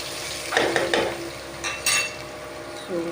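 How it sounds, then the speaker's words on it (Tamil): Onions fry in a pan for a full South Indian meal, a soft sizzle with a few short stirring scrapes and light clinks of a spoon against the pan. "இதில் நான் கொஞ்சம் ஆனியன் ஆட் பண்ணிக்கிறேன் ஆனியன் ஆட் பண்ணிவிட்டு நல்லா ஃப்ரை பண்ணிக்கலாம்"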